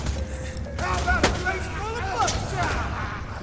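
Gunfire from the video game Borderlands 2, with a sharp shot cutting through a busy mix of game effects and sweeping tones, steady and fairly loud, while voices talk over it.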